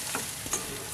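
Seafood tossed with Cajun seasoning is stirred in a pan, giving a brief, steady scraping stir over a faint sizzle, close and fairly quiet, with no talking.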